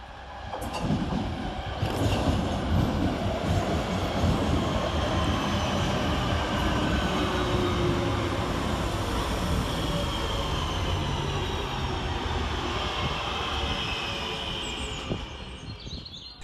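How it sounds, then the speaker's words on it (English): Northern class 323 electric train 323237 pulls into Kidsgrove railway station on a Stoke-on-Trent to Manchester Piccadilly service, a steady rolling rumble of wheels on rail that fills the whole stretch, close and fairly loud, easing slightly at the end. "Next in to arrive for Northern is 323237, working the 1203 Northern service from Stoke-on-Trent to Manchester Piccadilly"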